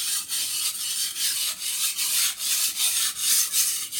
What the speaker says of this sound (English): So my goal now is to shave this burr off, and I'm still using edge trailing strokes.